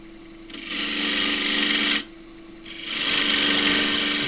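A wood lathe cuts down the diameter of a flange on a turned pagoda box, giving two loud, steady broadband cutting passes of about one and a half seconds each, split by a short pause with only the lathe's low hum.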